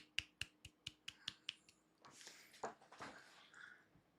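About seven soft, quick claps ring out close and alone, a quiet golf clap for a league player, then fade into muffled rustling and shuffling noise.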